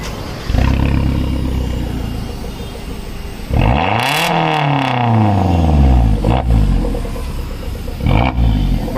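A lifted Mahindra Thar with an aftermarket exhaust at a garage, idling with a deep rumble before being revved hard in a loud rising-and-falling sweep, then settling back and blipped again, close to the listener.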